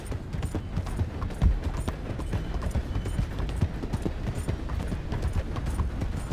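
Horse hooves trot at a steady clip-clop rhythm in the video game Red Dead Redemption 2, close and moderately loud, with faint background ambience and no voices.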